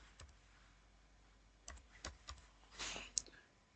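Sparse keystrokes on a computer keyboard while editing a file in the nano text editor: a few separate clicks and a short burst of quicker taps, close and fairly quiet.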